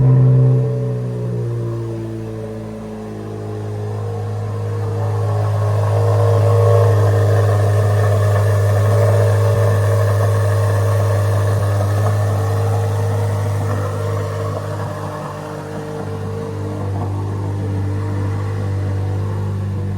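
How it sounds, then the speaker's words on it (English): A 2023 Chevrolet Corvette Z06 with its new V8 runs with a steady deep rumble that swells as it revs up near the middle and then settles back, loud and close, with no talking. "let's start this up so you guys can hear the sound of the new American V8"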